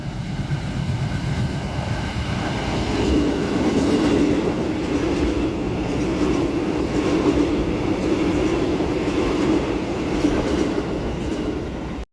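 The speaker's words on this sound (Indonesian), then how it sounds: "ini persiapan masuk di jalur 4 dari arah timur kereta api Argo Cirebon" Argo Cirebon passenger train rolling into a station platform, a steady loud rumble of wheels and carriages with a faint clickety-clack running throughout, no voices.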